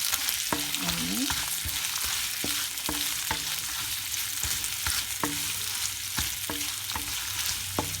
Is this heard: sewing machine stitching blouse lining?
no